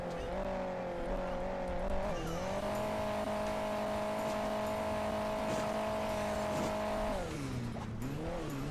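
Racing car engine in the game Hill Climb Racing 2, a steady loud droning whine that dips and rises again as the vehicle shifts pace, with faint tire and bump noises underneath and no talk.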